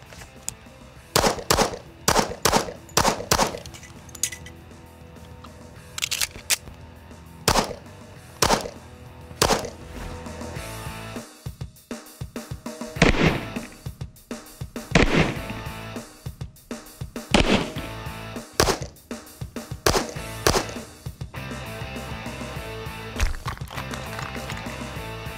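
A .45 pistol is fired through the El Presidente drill: a fast string of loud shots, a pause, then a second rapid string, each crack sharp and close with brief gaps between groups.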